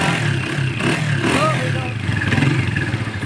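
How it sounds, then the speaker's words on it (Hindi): A Honda CG125 motorcycle engine runs close by as the throttle is opened, a rough mid-pitched engine note rising toward the end, with someone talking over it. "एक्सीलेटर दे रहा है लड़का"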